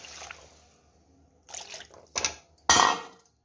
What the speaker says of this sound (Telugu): ఇప్పుడు చింతపండు రసాన్ని కొంచెం వేసుకోవాలి.